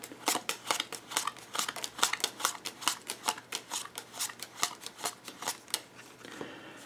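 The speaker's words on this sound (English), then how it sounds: "You deal 15 cards." Rapid rhythmic flicks of playing cards being dealt one by one from a deck into a pile of fifteen for a Dungeonrunner card game, close and crisp, a steady run of around two dozen snaps with no talk.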